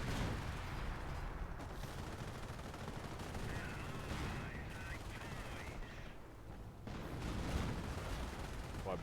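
Anti-tank gun fire against a tank in the Company of Heroes video game: a dense, steady barrage of gunshots and booms with rattling bursts over a continuous battle din, loud throughout, with faint voices mixed in.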